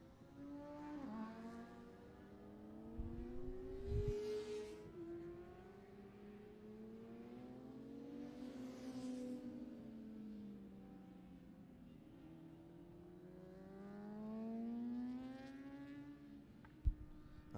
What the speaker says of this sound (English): As the last of our classic superbike and pre-injection riders complete their sighting laps.